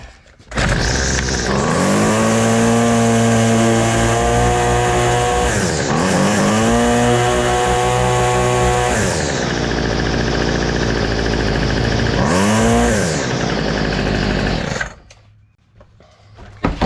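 A small petrol engine with a newly rebuilt carburetor, fresh air filter and new spark plug runs loud and close for about fifteen seconds, revving up and down in several surges before cutting off.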